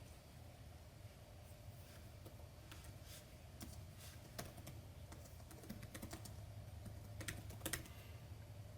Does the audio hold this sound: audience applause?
no